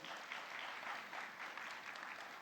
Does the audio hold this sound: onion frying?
no